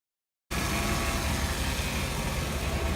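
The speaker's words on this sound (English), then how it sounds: "This is a slow motion video of the engine idling in this 1990 Chevrolet Suburban." After half a second of silence, a 1990 Chevrolet Suburban nearing the end of its service life comes in idling, a steady, close, broadband rumble that holds level with no speech.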